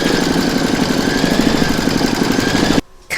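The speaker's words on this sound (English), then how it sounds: "Pop your hoop back into your machine and stitch round number 5 to secure it." An embroidery machine stitching a round on an in-the-hoop stacked Christmas tree, a loud, fast mechanical rattle with a regular needle rhythm, close up, stopping abruptly near the end.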